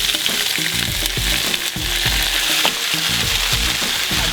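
Callaloo frying in hot oil in a pot, a steady sizzle with a continuous crackle over 4 seconds, and a rhythmic low thumping underneath.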